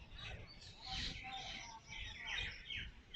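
Birds chirp and tweet steadily in a park after rain in the late afternoon, several overlapping calls at a moderate distance over soft ambient background noise.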